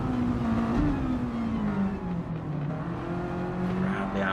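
Mazda race cars in a one-make series on the Autopolis short course, engines roaring at speed in a tight slipstreaming pack, one pulling past, loud and steady throughout with a faint commentator voice underneath.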